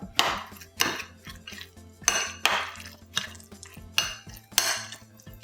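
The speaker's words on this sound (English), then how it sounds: "And then I have some green onion. And we're just gonna give that a stir." Bacon and green onion stirred in a bowl, a spoon knocking and scraping against the sides in regular strokes about every half second, close and clear with no talking.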